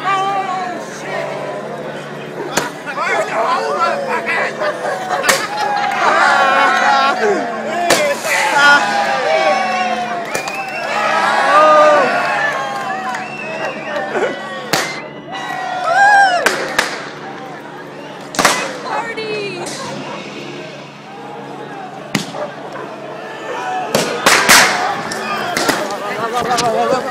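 Fireworks and bottles thrown at police during riots in Hackney, sharp bangs and cracks scattered throughout over a loud crowd with shouting and chatter.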